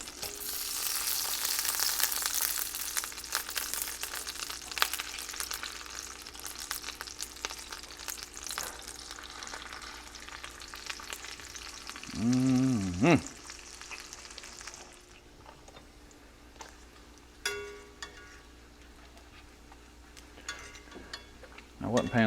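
Pork fries in bacon grease with a dense sizzle that fades after about fifteen seconds, broken by a few clanks and scrapes of utensils against the pan, with a voice briefly in the middle.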